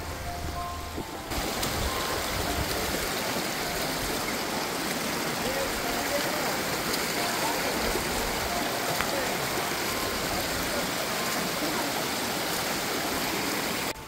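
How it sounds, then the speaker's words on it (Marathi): A stream with small waterfalls on a rainy-season trek, heard as a steady, loud rush of flowing and splashing water that fills the whole clip after a brief opening, with no talking. "तुम्ही बघू शकता छोटे छोटे वॉटरफॉल्स आहेत आणि वरती एकदम टॉपला मोठा वॉटरफॉल आहे"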